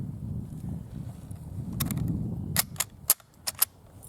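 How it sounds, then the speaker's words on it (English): A Venezuelan FN Model 1930 Mauser rifle is fired outdoors, several sharp distant cracks spaced irregularly over low wind rumble, faint and without talking. "Okay, we're going to fire a couple more rounds."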